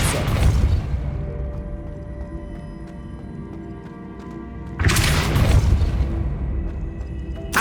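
A Depulso force spell cast in the Hogwarts Legacy game lands as two loud, broad booming bursts, each with a whooshing blast rolling over steady background game music.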